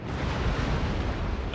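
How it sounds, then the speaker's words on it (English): Naval cannon broadside from a warship in the Napoleon Total War video game, a dense continuous rumble of many heavy guns firing together, loud and sustained for over a second with no talk over it. "let's give them a broadside, lads. 25 guns."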